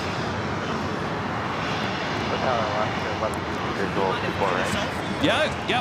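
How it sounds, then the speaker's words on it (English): An Alaska Airlines Boeing 737-900ER jet roars steadily and loudly at LAX, a broad continuous engine rumble with brief talk over it. "that is Alaska Airlines Flight 1083 heading to Seattle on a 737-900ER"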